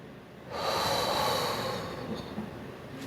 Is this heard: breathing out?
yes